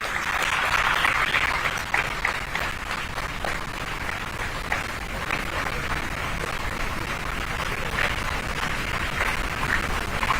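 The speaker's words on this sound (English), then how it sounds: "Let's keep the applause going." A large crowd at the inaugural ceremony of an international higher education fair keeps up steady, dense applause from start to finish, even and continuous, with no talking.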